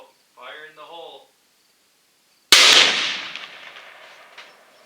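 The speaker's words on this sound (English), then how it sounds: "this lock took 3 direct hits from a 300 Ultra Mag, and it's still locked" A .300 Remington Ultra Magnum rifle fires once at a solid steel Master Lock, giving a sharp, loud crack with a rattling decay. A short spoken phrase comes just before the shot.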